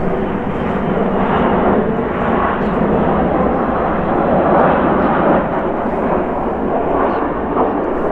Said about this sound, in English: hold on, airplanes again.